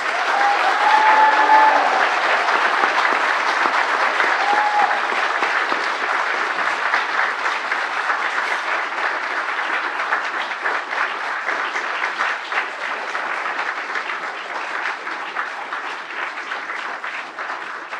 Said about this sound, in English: could I ask all of our graduates to give your families, friends and supporters a huge round of applause